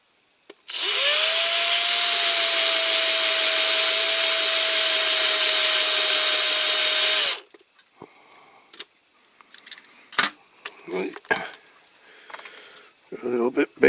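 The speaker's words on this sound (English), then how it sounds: "Always start with the small drill bit." A high-pitched power drill with a small bit runs continuously for several seconds drilling out rivets on a Corgi Toys die-cast Jeep, then stops, followed by metallic clinks and small tapping handling sounds.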